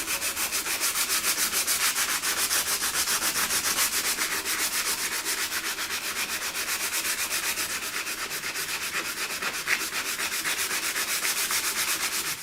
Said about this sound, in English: so the old logo is going to come off. Trusty sandpaper, I've got 100 on this.